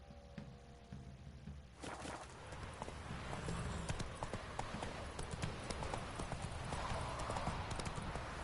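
In The Witcher III, the horse Roach's hooves start up after a quiet moment and then clop in a brisk, continuous gallop-like rhythm, close and clear against soft game background sound.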